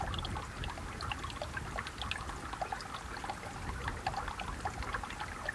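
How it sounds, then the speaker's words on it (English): Meltwater stream running far down inside a glacier crevasse, some 150 to 200 feet below: a steady, fairly loud wash of trickling and pouring water with small splashes throughout, heard alone with no voices. "It's a little river. It's like a small river."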